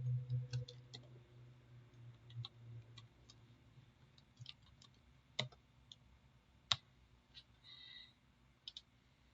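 Computer mouse clicks while working in CAD software, a scattering of faint sharp single clicks and a few louder ones over low hum and light room noise, with no voices.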